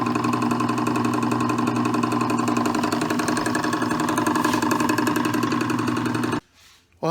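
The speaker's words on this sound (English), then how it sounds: "I think that motor is going to work out just fine" A lathe motor running with the headstock spindle turning, a loud steady mechanical hum with a regular pulsing whine, cutting off abruptly near the end.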